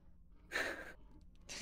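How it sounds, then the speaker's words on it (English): A monster's breathing in the horror game Boo Men: a close, breathy rasp rising for about half a second, then a quieter stretch and a second exhale at the end, with no talking. "I can hear her breathing and I hate it."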